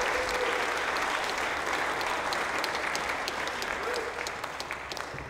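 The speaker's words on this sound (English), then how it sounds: "Give him a nice round of applause." Audience applause at the Laugh Track Comedy Festival, a dense, steady wash of clapping that fills the room from start to finish and tapers slightly at the end.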